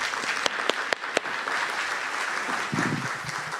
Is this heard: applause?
yes